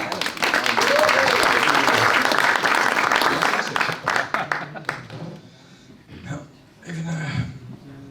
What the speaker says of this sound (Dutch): Even een applaus